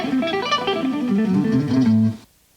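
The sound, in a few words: guitar playing a triad exercise, one note per string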